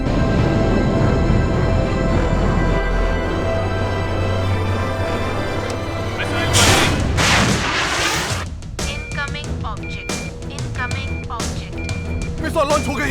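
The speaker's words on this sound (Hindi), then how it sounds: "मिसाइल लॉन्च हो गई है।" A missile launching aboard a plane in a zombie action movie, a loud sustained rumbling roar with a surging whoosh, then a burst of sharp clattering and beeping alarm tones, dense and continuous throughout.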